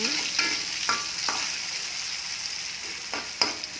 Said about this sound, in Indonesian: Aduk terus bunda